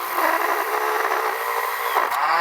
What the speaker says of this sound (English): I'm just going through with a little grinding disc on